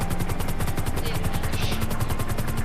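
Helicopter in GTA V, its rotor beating in a fast, steady chop at close range, loud and continuous with a droning engine underneath.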